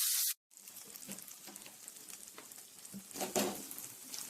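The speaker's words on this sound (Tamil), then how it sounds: "மிக்ஸ் பண்ணிட்டு எண்ணெய் ஹீட் ஆனோன்னா இந்த மாதிரி ப்ரான்ஸு சேர்த்துக்கோங்க" Prawns hit hot oil in a pan for a crispy prawn fry, a soft sizzle after a brief cut, with crackling spurts rising near the end.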